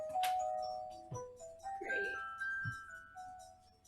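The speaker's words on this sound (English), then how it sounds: "This is the music you start hearing, the little chimes." Little chiming tones ring out in a short tinkling melody of sustained bright notes, fairly quiet, with a low voice murmuring beneath them.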